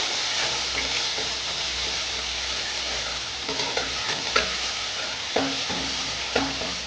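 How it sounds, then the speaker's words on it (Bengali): A ground cumin and ginger paste fries in a pan for a vegetarian spinach dish, giving a continuous close sizzle while a spatula stirs and scrapes in several distinct strokes toward the end, with no one talking. "জিরে আদা একসঙ্গে বেটেছিলাম, ওটা আমি দিয়ে দিলাম। দিয়ে একটু নেড়ে নেবো।"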